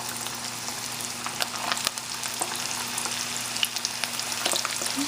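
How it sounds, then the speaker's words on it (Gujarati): Kebabs frying in hot oil in a pan, giving a steady, close crackling sizzle with scattered sharp pops throughout, continuous and even in loudness. "તો અહીંયા કબાબ હું વારી નાખી છું અને હું થોડાક શરૂ કરી તળવા માટે"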